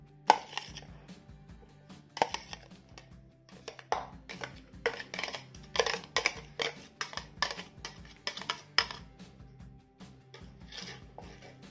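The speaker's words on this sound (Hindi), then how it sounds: "आपको जितना बारीक चाहिए उतनी बार आप उसको चॉप कर सकते हैं" Onions being chopped in a Ganesh pull chopper: bursts of rapid clattering blade-and-plastic rattles repeat in quick pulls throughout, close and fairly loud, with brief pauses between sets.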